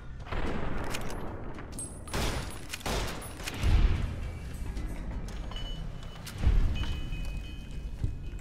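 Gunfire in Fallout: New Vegas comes as bursts of shots and a couple of heavier booming blasts, scattered irregularly across a noisy game soundscape with no talking.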